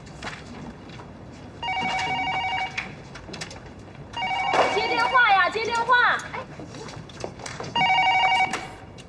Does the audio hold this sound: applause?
no